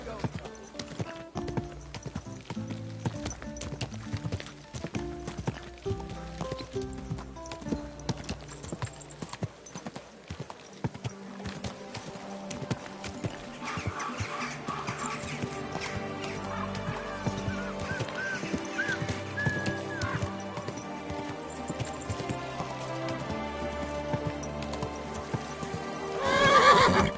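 A horse in Kingdom Come: Deliverance II around Kuttenberg, its hooves clip-clopping steadily with neighs and whinnies, alongside geese honking and background game ambience as a voice speaks.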